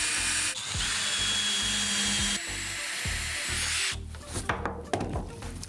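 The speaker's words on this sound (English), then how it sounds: "I'm just gonna pre-drill and countersink all the holes we need" Power drill pre-drilling and countersinking holes in wood, a close, steady whirring hum that changes pitch as the bit bites, then gives way to scraping and rattling handling at the end.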